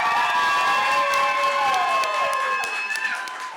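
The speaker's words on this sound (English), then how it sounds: "Give the loudest round of applause that you can for our panelists today." An audience cheers, whoops and applauds for panelists at the close of a panel discussion, a steady loud burst of crowd noise with shrill voices lasting throughout.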